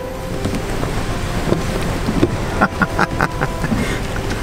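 Heavy rain pours down steadily around a parked truck on a car sales lot during the holiday season, a dense continuous hiss with a few louder spatters and knocks near the end.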